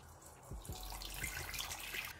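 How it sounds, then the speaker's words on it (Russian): Hot water pours into a kitchen pot, a soft steady splashing stream with a couple of low sloshes as it starts, heard close and fairly quietly. "В кастрюлю залью горячую воду."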